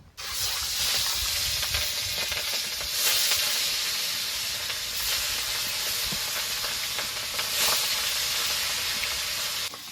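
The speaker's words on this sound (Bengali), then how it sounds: "গরম হয়ে গেছে এবার মাছগুলো ভেজে নেব" Boal fish sizzle in hot oil in a kadai, producing a loud, steady, crackling hiss that swells briefly a few times and continues unbroken, with no voices.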